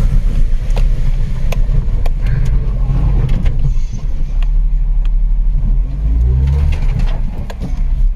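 A car driving off-road over a stony, watery mountain track on the road from Manali to Leh Ladakh, with loud, continuous engine rumble and sharp knocks and bumps from rocks hitting the vehicle, close to the microphone.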